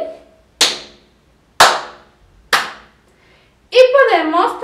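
Three sharp, close hand claps land at a steady pace, each loud and crisp with a quick decay, and a voice begins speaking after the last.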